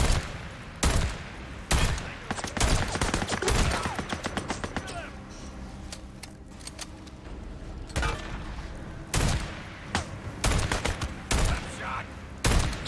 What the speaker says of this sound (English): He shot me in the cheek!